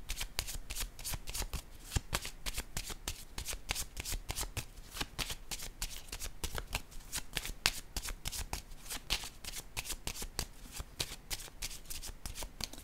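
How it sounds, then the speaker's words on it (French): Tarot cards are shuffled in a long run of crisp, rapid riffles and flicks, close and steady, heard alone without talk. "Je peux peut-être piger une autre carte pour avoir d'autres détails."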